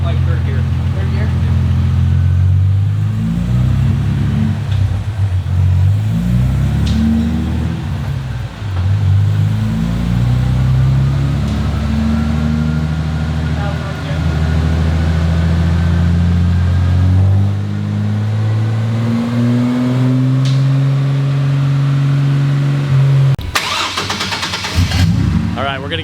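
A turbocharged Atlas 4200 engine in a Chevy Colorado with a stock block revs on a dyno in loud, droning pulls whose pitch climbs and falls, with voices talking over it.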